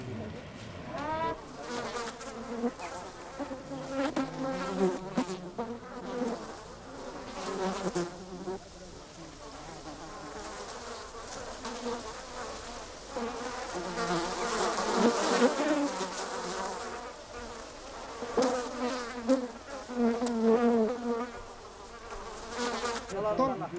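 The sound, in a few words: swarm of thousands of angry bees buzzing, Himalayan honey hunt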